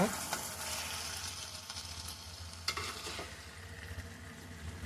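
Fish pieces in a spiced curry fry in a pan as they are stirred, with a continuous soft sizzle, occasional scraping clinks of the utensil, and moderate, close, steady sound without speech.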